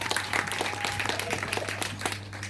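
A church congregation claps, dense applause filling the room over a steady low hum, moderately loud and sustained throughout.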